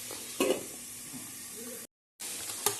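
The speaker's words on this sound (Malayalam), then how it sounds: "അപ്പം നമ്മുടെ ഉള്ളിയും പച്ചമുളകും കറിവേപ്പിലയും ഇഞ്ചി വെളുത്തുള്ളി എല്ലാം നല്ലതുപോലെ വഴന്നു വരുന്നുണ്ട്" Onion, green chili, curry leaves, ginger and garlic sauté in a pan, giving a steady close sizzle with a few louder stirring scrapes and a brief cut to silence midway.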